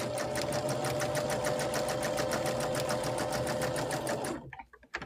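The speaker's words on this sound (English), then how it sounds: "I'm quilting in this case over the applique because it's easier than not quilting over it." A sewing machine quilting stitches over appliqué on a small Valentine's mug rug, running in a fast, steady rhythmic hum for about four seconds before stopping abruptly.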